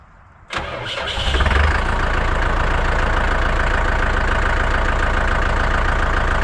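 A tractor engine powering a log splitter starts abruptly, climbs for a moment, then settles into a steady, loud idle that drones on evenly with no voices.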